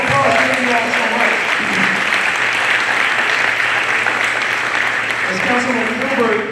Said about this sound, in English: let's give ourselves a real round of applause